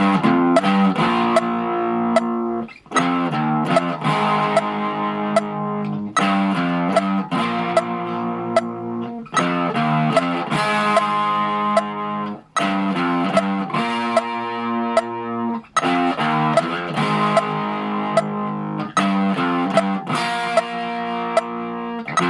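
A distorted electric guitar plays a chugging riff, repeating in short phrases with brief gaps between them, loud and close with no voices.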